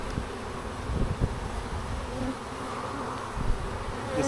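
Honey bees buzz in the bottom box of a hive in spring, a soft, steady, dense hum with occasional closer wingbeats passing by.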